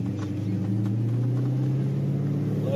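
An old Corvette engine rumbles deeply and steadily on a freeway on-ramp, a loud, close, low drone with no talking.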